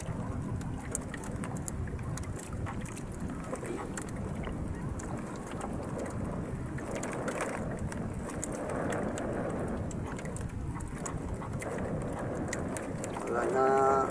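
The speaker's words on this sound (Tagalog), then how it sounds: "Lakas ng hangin guys, oh." Strong wind buffets a small fishing boat at sea ahead of rain, a steady broadband roar of gusts and water churning continuously, with a louder burst near the end; no speech is heard.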